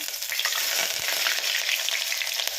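Onions hitting hot oil with bay leaf, marathi moggu and spices for stuffed brinjal curry, a loud dense sizzle that crackles steadily throughout.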